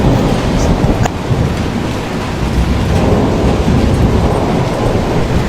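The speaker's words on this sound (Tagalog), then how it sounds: "Hanggang gabi umuulan pa rin." Heavy, steady rain pours continuously at night, a loud dense roar with faint distant rumbles and no voices.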